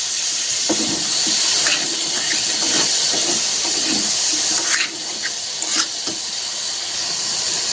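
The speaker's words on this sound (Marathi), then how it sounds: "डिंगरे छान असं परतून घ्यायचं" Dingri mushrooms, rinsed in cold water, sizzle and hiss as they are sautéed in a pan for a village-style vegetable dish, a constant close frying hiss broken by occasional clinks and stirring scrapes.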